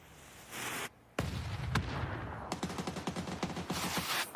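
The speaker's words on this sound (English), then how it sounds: "There is mortars coming in. There is nades coming in." Rapid gunfire bursts and grenade and mortar blasts in an esports shooter match, loud dense volleys crackling in quick succession after a couple of heavier booms.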